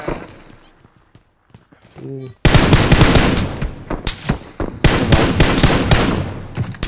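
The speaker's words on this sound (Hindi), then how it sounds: "इन लोग फायर किधर से आ रहे" Dense bursts of automatic gunfire erupt in a BGMI battle royale match, loud and near, firing in rapid rattling strings with brief pauses; someone talks quietly just before the shooting begins.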